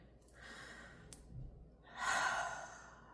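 A person takes a slow, deep breath close up: a soft airy inhale, then a louder, longer exhale, with no talk.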